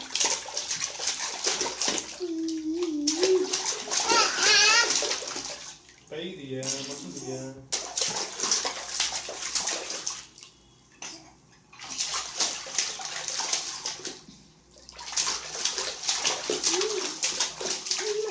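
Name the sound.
child splashing and playing with water in bathroom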